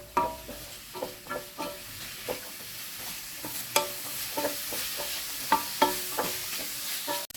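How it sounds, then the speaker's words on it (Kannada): Onion and capsicum fry on low gas in a pan for cabbage manchurian, with repeated scraping stirs and spatula taps against the pan over a soft background sizzle, close and without talk. "ಗ್ಯಾಸನ್ನು ಸ್ಲೋವಲ್ಲಿಟ್ಟು ಫ್ರೈ ಮಾಡ್ತಾಯಿದ್ದೀನಿ ನಾನು"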